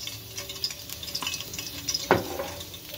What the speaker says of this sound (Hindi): और अब मैं इसमें ऑयल डालूंगी।